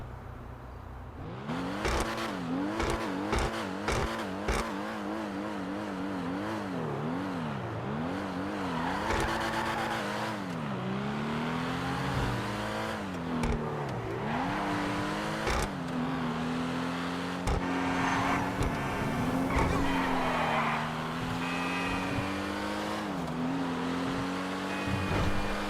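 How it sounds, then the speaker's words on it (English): A stock Aston Martin in the GTA Online video game revs hard, engine pitch sweeping up and down through repeated throttle blips, with tire squeal and skids mixed in. The sound is loud and continuous, with no talk. "let's begin with the stock sound test. Let's hear what this bad boy sounds like stock"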